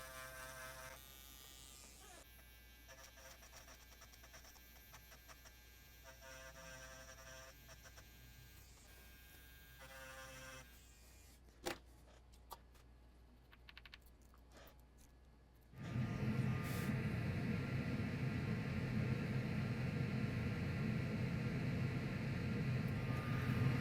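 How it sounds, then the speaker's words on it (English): A small grinding pen works on a circuit trace of a USB flash drive, a thin buzzing whir that shifts pitch, drops to a few clicks, then gives way to a louder, steady broadband rush near the end. "Let's grab our grinding pen. And we are going to grind this trace right here."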